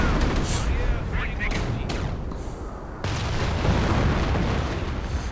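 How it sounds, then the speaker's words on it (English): Artillery and a Flak 88 fire in a World War II strategy video game battle, with dense booms and rumbling explosions over a constant noisy battlefield din. "Artillery being called in. Flak 88 firing away"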